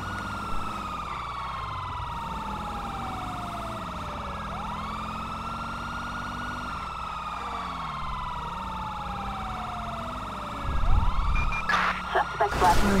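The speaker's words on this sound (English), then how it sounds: "I need to change the freaking siren." A wailing police siren in the video game GTA V with the LSPDFR mod sweeps up and down continuously, with a burst of louder crashing noise near the end.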